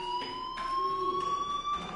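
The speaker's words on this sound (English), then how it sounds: "do you hear that fire alarm?" A steady electronic fire alarm rings inside a school building in the video game Life is Strange, a continuous high tone with pulsing overtones that persists loudly for the whole moment, with no voices.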